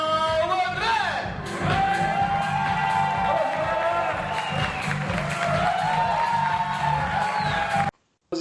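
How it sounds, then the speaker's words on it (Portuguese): Audience cheering, whoops and applause at a stand-up comedy show, a loud crowd roar sustained for about eight seconds with shouts rising above it and music-like tones underneath, ending abruptly. "E para começar a noite de hoje, recebam com muitos aplausos Paulo André."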